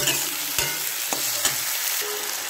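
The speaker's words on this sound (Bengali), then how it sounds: "আমি তেলে আলুগুলো প্রথমে দিয়ে দিলাম, দিয়ে একটুখানি আলুগুলোকে একটু নেড়ে নিচ্ছি ভালো করে একসাথে মিশিয়ে" Potato pieces frying in hot oil are stirred in a pan, with a steady sizzle running throughout and a few sharp scraping knocks from the spoon along the way.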